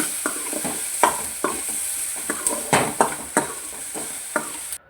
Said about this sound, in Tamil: அதை சேர்த்து நம்ம நல்லா சாட்டே பண்ணிக்கலாம்